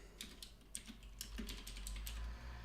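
Someone types on a computer keyboard while entering Java code, making quiet, close, irregular key clicks in short runs over a low background hum.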